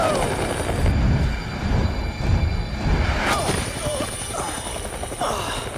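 Helicopter in the zombie video game Dead Rising, a steady low rotor drone running throughout over a broad rumble, with voices and game sounds layered on top.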